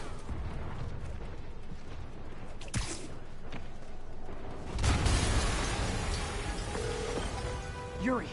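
An explosion in the Spider-Man PS4 video game: a sudden broad boom partway through, set against a dense, rumbling game soundscape with effects and music, followed by lingering roaring noise.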